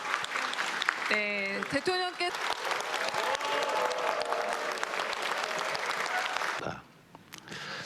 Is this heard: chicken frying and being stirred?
no